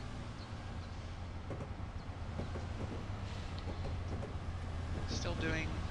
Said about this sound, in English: There's my train going by.